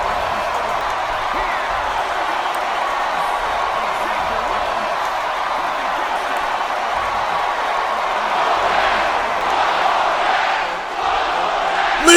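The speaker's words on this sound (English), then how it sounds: "Listen to this crowd begging William Regal, make the match" Arena crowd in the WWE 2K22 wrestling video game roars steadily after a six-man match, a dense sustained wall of cheering that swells slightly near the end.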